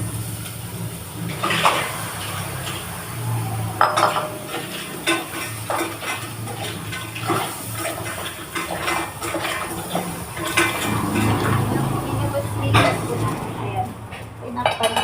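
Mussels (tahong) tipped into a cooking pot, with clattering shells, metal pot knocks and stirring over a watery simmering hiss; a person talks now and then between the clinks.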